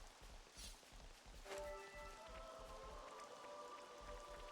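Rain falling in Xenoblade Chronicles 3, a faint steady patter of drops with a soft chiming musical tone entering partway through.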